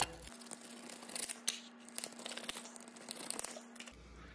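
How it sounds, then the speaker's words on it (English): A pizza cutter rolls and crunches through a crisp waffle-maker pizza, a continuous crackly tearing texture up close for several seconds over a faint steady hum. "Now we just cut it with the pizza cutter."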